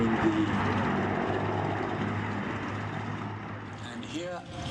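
The B-17 Flying Fortress Sally B passes over the Duxford Flying Legends 2010 airshow, its piston engines giving off a loud, steady, broad drone that thins slightly toward the end of the pass.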